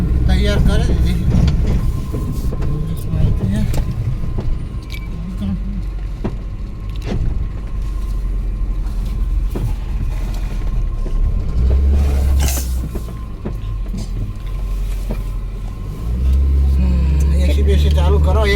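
Car engine running steadily at close range, a low, even rumble with occasional small clicks and a brief motor whirr, like a power window, over it.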